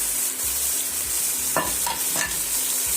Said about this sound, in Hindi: इसको हम अच्छे से भून लेते हैं।